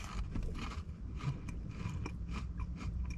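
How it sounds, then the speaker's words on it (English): Crunchy bites into a darker, crispier KFC fried donut, a run of close, loud crackling chews and scrapes over a few seconds with no talking. "I'm sure you could hear that crunch then."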